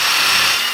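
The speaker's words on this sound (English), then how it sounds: "Now if you're using just a drill bit, you want to drill in just a little bit, just through the board." A power drill bores through wooden raised-bed boards during a garden raised-bed build, giving a loud, steady, high-pitched whine that lasts under a second.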